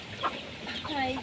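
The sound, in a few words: chicken clucking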